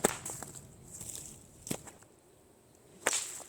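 Whip cracking against candles at a whipping post: three sharp, separate cracks spaced over a few seconds, fairly close, with quiet handling noise between them.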